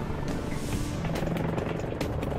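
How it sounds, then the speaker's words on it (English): An EH-101 military helicopter in flight, its large main rotor making a continuous heavy roar with a rhythmic throb, loud and steady throughout. "Every second the EH-101 is in flight, its massive main rotor is shoving up to 45 tons of air out of its way."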